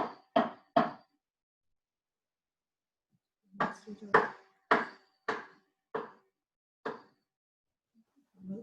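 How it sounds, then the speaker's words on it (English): Fairly ripe produce chopped with a knife on a cutting board: three quick sharp chops, a pause, then a rapid series of about seven crisp knocks spaced out, close and clear with no talk. "Prettiest chopping technique."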